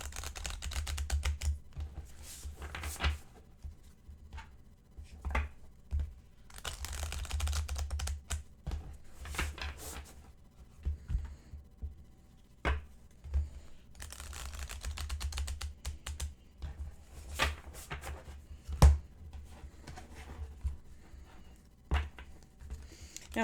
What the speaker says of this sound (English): It's going to take me a few minutes to shuffle this a little bit,